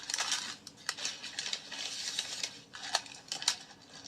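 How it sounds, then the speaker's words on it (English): A Burger King paper bag is ripped open close by, giving scattered crisp tearing and rustling crackles with small sharp accents, fairly quiet and with no talking. "I know some of you don't like when I rip the bag."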